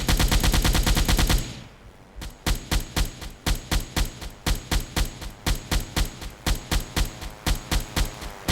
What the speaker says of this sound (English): This automatic flak cannon may have been the single best upgrade I have ever got.